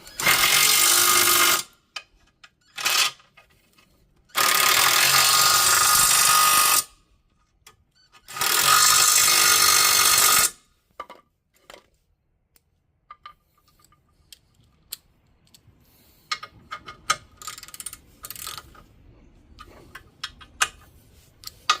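A ratchet tightens the ball joint bolts on a Mk4 Volkswagen, with three loud bursts of rapid clicking close by, followed by faint intermittent taps and handling noises and no talking.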